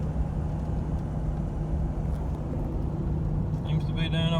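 An old Jeep towing a four-wheeler and plow on a trailer cruises around town, its engine a steady low rumble throughout, with faint rattles near the end.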